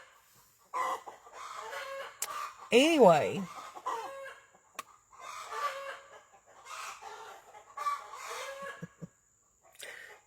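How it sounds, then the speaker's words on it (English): Chickens cluck excitedly in bursts while a rooster crows loudly once, and a person speaks briefly. "These chickens are crazy."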